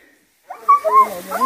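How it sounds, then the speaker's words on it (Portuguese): A dog gives a short series of yelping, whining barks close by during a wild pig hunt after a brief silence, the calls rising and falling in pitch. "Quem que é esse cachorro aí, Zé?"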